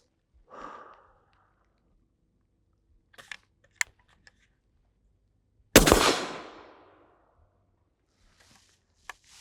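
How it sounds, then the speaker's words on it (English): A single loud rifle shot from a Taurus Expedition fired from the prone position, a sharp close crack with a short decaying tail, set among quiet handling clicks and a breath. "making a headshot from here is relatively easy"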